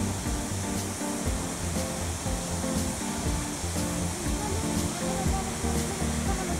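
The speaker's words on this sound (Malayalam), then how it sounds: "ആ നല്ല വെള്ളച്ചാട്ടോ, അത്" A roaring waterfall beside a forest walking path: a loud, steady wash of rushing water that holds constant throughout, with no clear speech.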